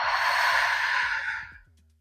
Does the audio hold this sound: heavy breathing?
yes